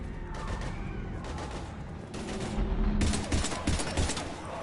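Heavy, sustained gunfire in Mass Effect 3, dense overlapping shots and bursts from a firefight going on almost without a break, loud and close.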